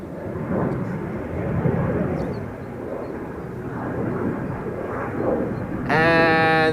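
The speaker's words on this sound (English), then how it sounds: "There's the first wide body coming our way, Delta Airlines Flight 243, going to Boston" Delta Airlines Flight 243, a wide-body jet taking off from Schiphol's Polderbaan runway 36L toward Boston, a loud, broad engine roar that swells and holds steady, joined near the end by a sharp tonal whine.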